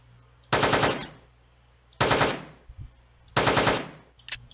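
Three loud, separate bursts of rapid gunfire on a shooting range in the top-down game Teleglitch, each a short rattling volley followed by decaying echo, with a faint extra shot near the end.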